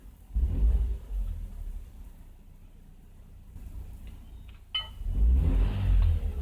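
A BMW E46 with a hunting idle fault is revved twice, each burst a deep, throaty rumble swelling up and settling back, with a quieter uneven idle between them.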